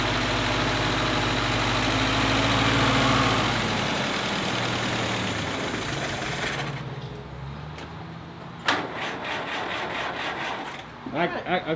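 Engine of a 1948 Willys Jeep idling roughly as it warms up, a loud steady low rumble that fades after a few seconds, followed by softer clanks and knocks.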